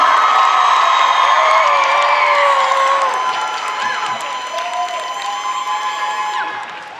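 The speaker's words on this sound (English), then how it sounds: "Now you can clap." An audience at the Hazbin Hotel panel at Anime Pasadena 2024 erupts in loud cheering, screams and whoops with clapping underneath, a dense roar that gradually eases.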